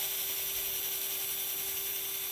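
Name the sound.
drill boring into Firebird model rocket kit part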